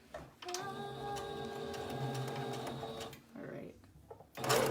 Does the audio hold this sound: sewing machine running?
yes